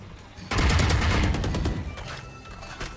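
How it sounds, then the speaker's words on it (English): A loud burst of rapid gunshots in Valorant erupts after a quiet moment, then tapers into scattered fainter shots and game sounds. "Multiple shots."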